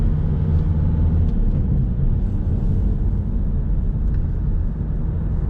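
A car drives along the Coventry Road toward Bedworth with a steady, close, heavy low rumble of engine and tyres from inside the cabin. Nothing else stands out and no voice is heard.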